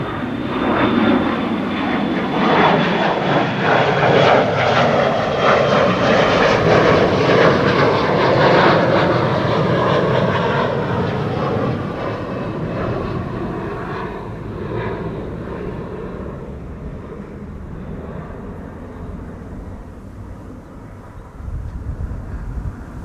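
A KLM passenger jet roars down the runway on departure from Schiphol, a loud broad engine rumble that slowly fades as it climbs away, with no voices.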